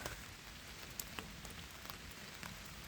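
Continuous rain falling close by on a trek to Island Peak, Nepal, a dense hiss dotted with sharper drop taps, with no voices.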